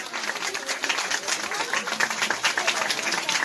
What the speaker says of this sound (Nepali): बिस्तारै बिस्तारै तपाईँहरूले ताली बजाउनुहोस्